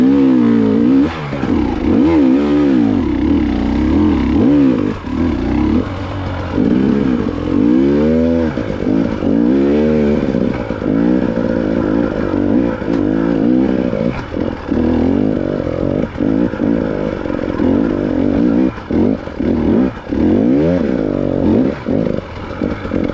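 An enduro motorcycle grinds through a rocky trail as the rider slips the clutch, the engine revving loud and close in constant rising and falling surges, with no talking over it.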